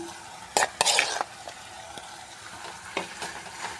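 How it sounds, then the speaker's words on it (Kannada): A spoon scrapes and stirs cooked lentils into a radish-pod vegetable stir-fry in a pan with a few loud strokes, over a soft steady sizzle. "ಈ ಬೇಳೆನ ಹಾಕಿ ಕಲಿಸ್ಬಿಡ್ತೀನಿ"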